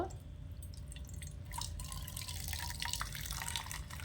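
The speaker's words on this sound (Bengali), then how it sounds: "কত জল বেরোচ্ছে দেখুন চাল থেকে" Water drips and trickles from a handful of soaked rice being squeezed out by hand, a close, continuous wet patter that grows slightly busier midway, with no voices.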